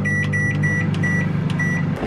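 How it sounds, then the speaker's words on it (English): A microwave oven hums steadily while it heats a chilled meal prep, a constant drone with a faint electronic tone pulsing about every quarter second, running alone for around two seconds. "I'm going to put mine in the microwave for 3 minutes because they're chilled"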